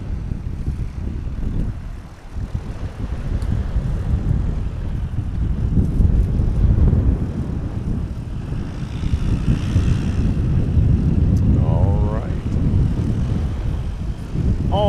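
A Lycoming IO360-powered light aircraft at a STOL competition in Hartford, Wisconsin roars with a loud, sustained propeller drone close by, swelling and easing with throttle changes and accompanied by wind buffeting on the microphone.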